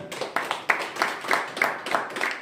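An audience claps in a loose, repeated rhythm of sharp bursts, moderately loud and fairly close, with faint voices underneath.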